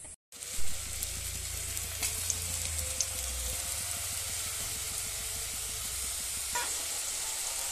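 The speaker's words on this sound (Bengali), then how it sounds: "ভেজে নিচ্ছি তেলে দিয়ে।" Sweet potato kala jamun balls frying in hot oil, a continuous close sizzle with light bubbling and a few scattered pops, steady throughout after a brief start, no voices.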